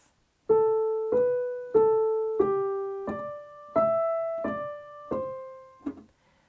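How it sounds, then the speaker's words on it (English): A piano extract marked with slurs is played legato, around nine smoothly connected notes flowing into one another at a slow, even pace, soft and close with no talking. "If the piece of music has slurs on them, you'd need to play legato like this."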